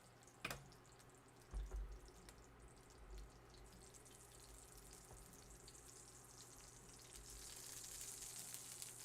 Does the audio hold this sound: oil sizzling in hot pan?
yes